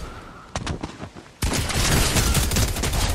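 Gunfire sprays an enemy in the Fortnite video game: a few scattered shots first, then an abrupt, loud, continuous burst of rapid automatic fire that carries on to the end.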